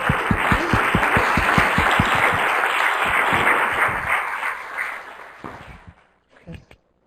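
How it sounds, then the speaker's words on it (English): A crowd at a public meeting on patient-focused drug development for Alpha-1 antitrypsin gives a loud round of applause, with rapid clapping close by that thins out, fades and stops, leaving a few last scattered claps. "I think you guys can give yourselves a big round of applause"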